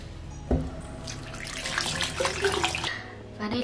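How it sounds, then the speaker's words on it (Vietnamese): Tap water runs steadily into a bathroom sink while someone washes their face, splashing and shifting as hands move through the stream, close and fairly loud with no talking. "Đứng dậy, rửa mặt."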